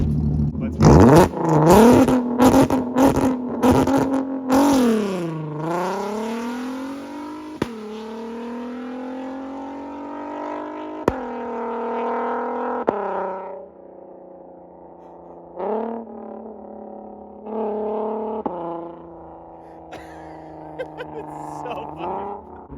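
A straight-piped Nissan R32 launching on the street: loud crackling blips, then a hard rev that drops and climbs through gears, settling into a droning exhaust with a few more rev bursts, echoing around.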